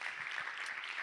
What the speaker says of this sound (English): Round of applause one last time